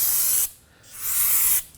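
Brake parts cleaner sprays from an aerosol can in two sharp hissing bursts separated by a brief gap, close up, while working on the rear hub of a Nissan Armada.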